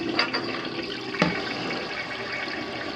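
A toilet flushing in a home bathroom, a steady whooshing rush of water with a brief sharper surge partway through, close and alone with no talking.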